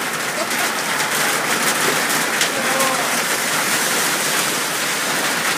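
Steady heavy rain hisses down without pause in Slovenia, a dense, even patter on surfaces close by.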